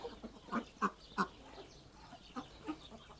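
Several short quacks from Blue Favorite ducks, a quick run of three then two more after a pause, nearby with faint background noise.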